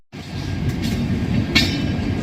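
Saharsa Humsafar Express passenger train in motion, with a steady loud rumble of wheels and carriage noise, brief brighter clatters cutting through the continuous roar.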